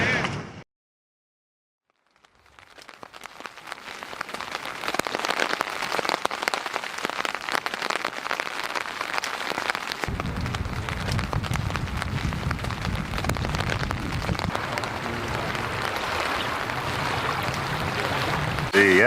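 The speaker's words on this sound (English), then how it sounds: "because it's raining and it's windy" Rain and wind on the Terra Nova River on a rainy morning, a dense loud patter of drops and gusty rush that starts after a brief silence and builds into a steady roar.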